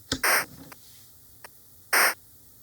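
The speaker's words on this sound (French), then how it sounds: "si je mets que le bruit blanc" A modular synthesizer mixer passes white noise in short, loud bursts of hiss, two longer blasts and a few faint clicks, separated by near-silence.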